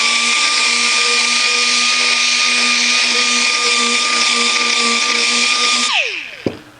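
A Harbor Freight 2-inch orbital sander runs against rough sheet metal with a steady, loud, high-pitched whine and grinding buzz, then winds down near the end, where a sharp knock follows.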